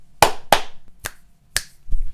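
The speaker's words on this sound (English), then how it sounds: "There we go, there's the claps." Four sharp hand claps at an uneven pace, the first two close together, then two more spaced apart, close and crisp in a quiet room.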